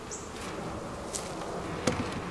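Honeybees in a hive inside a heated bee barn, just calmed with smoke, give off a steady, close, continuous buzz over a soft hiss of background noise, with no one talking.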